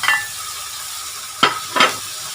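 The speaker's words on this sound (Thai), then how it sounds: "ผัดมะเขือนี่เราจะไม่ผัดให้เขาเละนะคะ" Thai eggplant is stir-fried in a pan with seasoning powder, giving a soft background sizzle and two short scraping stir strokes close up near the end.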